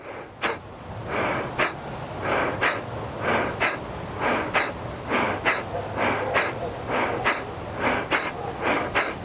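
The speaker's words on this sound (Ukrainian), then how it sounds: "видихаємо тільки животом, якби витискаючи, піднімаючи купол діаграми вгору, і вона буде витискати повітря" Forceful belly exhalations in a cleansing breathing exercise, about twenty sharp rhythmic puffs of air pushed out through the nose roughly twice per second, close and loud with no talking.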